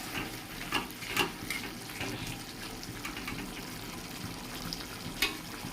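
Hot water is poured into a pan of vegetables sautéed with mustard, giving a steady, moderately loud watery rush and splashing with a few sharper splashes, no voices.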